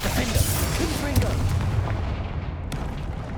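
A Confringo fire-blast spell goes off in the Hogwarts Legacy game, with heavy booming bursts and crackling impacts that fill the space, a voice mixed in underneath.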